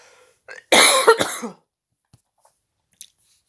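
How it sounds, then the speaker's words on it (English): A single harsh cough in two quick bursts, close and loud, followed by near silence with a few tiny clicks. "I'm going to cough right now"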